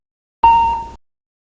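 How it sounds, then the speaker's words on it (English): Single chime from an Embraer E190 cockpit aural warning system: one clean electronic ding that strikes sharply and decays over about half a second, heard alone in silence. "like the single chime"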